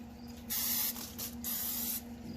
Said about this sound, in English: Any kind of cooking oil works. Just kind of spray it.